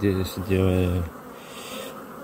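Honey bees cluster and hum over nectar-filled hive frames during an inspection, a loud tonal buzz up close at first, then a fainter, softer drone.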